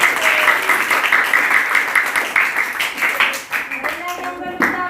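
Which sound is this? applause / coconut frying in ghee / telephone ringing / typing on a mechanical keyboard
applause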